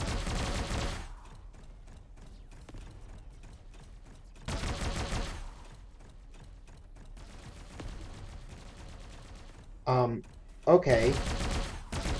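Combat mortar launchers firing in the robot battle game Bot Machines, heard as several loud broadband blasts spaced a few seconds apart, with mechanical clatter between them and a brief spoken word near the end.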